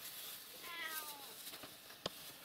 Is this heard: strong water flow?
no